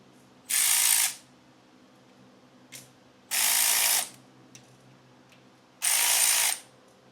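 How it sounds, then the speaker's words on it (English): A ratchet wrench clicks forward a little at a time while tightening the bolt on a Trask power plate and derby cover install; three long bursts of rapid clicking, close and fairly loud, with brief single clicks between them and no talk. "now we're gonna do the same thing with the ratchet. Instead of reverse, we're about to go forward."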